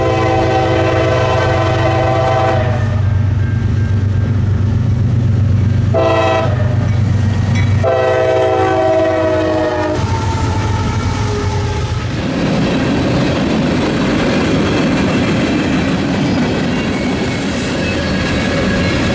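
A CSX M380 freight train led by GE Evolution locomotives passes Pine Junction in Gary, sounding several loud, sustained horn blasts before its rumbling, rattling cars roll by close and heavy.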